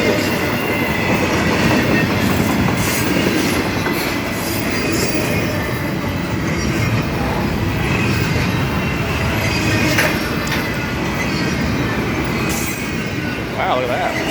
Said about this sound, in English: I got myself a train.